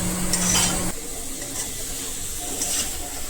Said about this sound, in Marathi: आता सारण व्यवस्थित असं आपल्याला गरम करून घ्यायचं आहे